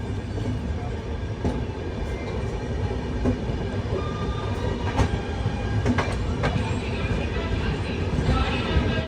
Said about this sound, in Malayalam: ട്രെയിൻ ഇതാ കിഷൻഗഡ് റെയിൽവേ സ്റ്റേഷനിലേക്ക് എത്തിക്കൊണ്ടിരിക്കുകയാണ്